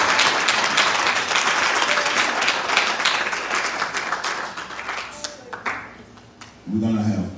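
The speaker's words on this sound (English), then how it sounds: "somebody give them a hand clap of praise for all you're doing" A church congregation claps in praise during a pastor's ordination service, sustained loud applause that gradually thins out before a voice speaks at the end.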